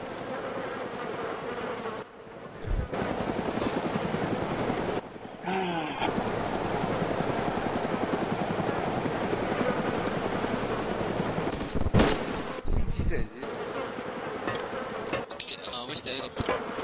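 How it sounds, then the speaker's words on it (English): A helicopter in the video game DayZ whirs with a steady buzzing rotor drone that carries on for most of the stretch, briefly cut off several times, while players talk over it. "She hijacked the helicopter."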